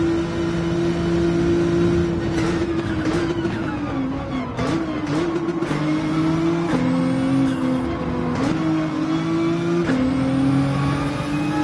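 A car engine hums steadily while driving on a morning commute, with shifting pitch as it accelerates and changes gears, close and continuous.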